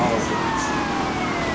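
Police car siren wailing continuously in the Grand Theft Auto Vice City video game, loud and steady over dense engine and traffic noise.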